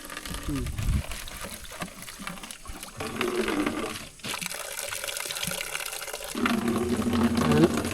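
Water from a forest stream splashes and gurgles close by in uneven bursts, with a voice speaking intermittently over it.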